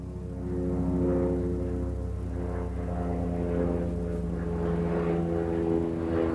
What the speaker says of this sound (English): aeroplane.